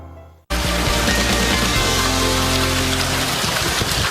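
A powerful Colorado hailstorm bursts in abruptly: a loud, dense roar of ice chunks pounding surfaces continues without a break after a brief quiet start.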